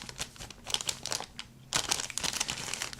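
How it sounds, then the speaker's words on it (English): Plastic bag holding 1:48 scale F-14 Tomcat model kit parts crinkles and rustles close up in irregular bursts, with a brief lull before a louder stretch of crackling handling. "And this is in a plastic bag."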